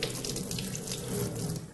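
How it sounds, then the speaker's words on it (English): Tap water runs steadily into a sink while a Testo 270 frying-oil quality sensor is rinsed under it, a continuous close hissing splash with no talking. "it's enough to clean the sensor under running water with a mild detergent"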